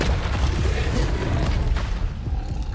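An Incendio fire spell blasts in Hogwarts Legacy, a loud, close, continuous roaring whoosh of flame with rumbling booms and bursts layered through the short burst of combat.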